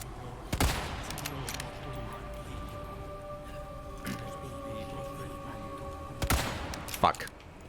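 A few sharp gunshots from enemies in the video game Resident Evil 4 Remake, loud sporadic cracks with quieter game ambience and tones between them, and a person speaking in between.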